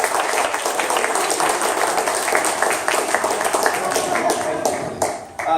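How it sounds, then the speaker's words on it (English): An audience at a 1 Million Cups morning event in Daytona Beach claps to welcome a speaker named Wilson. The clapping is brisk and mixed with voices, then tails off sharply near the end. "Round of applause, please, for Wilson."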